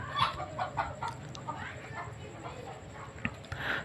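A hen clucks in a series of short, irregular calls, fairly close but soft, over a faint noisy background.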